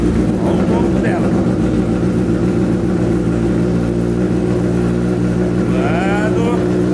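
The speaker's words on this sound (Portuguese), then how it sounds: "o escapão dela tá berrando muito" A Honda CB1000 motorcycle engine idles loudly with a deep rumbling exhaust, revving briefly near the start and end, with a voice talking over it.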